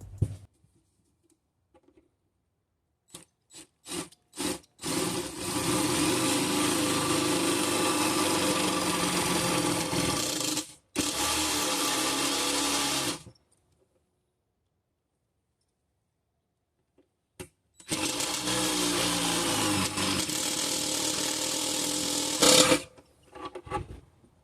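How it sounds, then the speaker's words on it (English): Power drill boring out a hole in a Honda Civic part during a budget turbo build, running in two sustained loud bursts of roughly six and five seconds with a brief whir between them, separated by quiet pauses. "drill this out."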